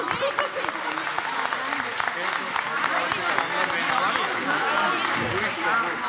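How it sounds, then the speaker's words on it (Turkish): Concert audience applauding at a Turkish music performance, a continuous crowd roar of clapping heard throughout, with a voice speaking over it and some cheering. "kuvvetli alkışlarınız"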